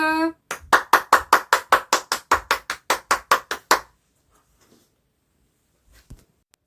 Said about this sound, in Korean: 예수님께 박수!